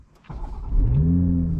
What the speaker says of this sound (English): let's start up this car and let's see how it looks.